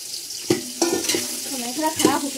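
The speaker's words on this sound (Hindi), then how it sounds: "अभी ना प्याज फ्राई हो गया एकदम बढ़िया सा" Onions fry for biryani in a steady, loud sizzle, cut by several sharp stirring scrapes and clinks from a spoon in the pan, with no voices.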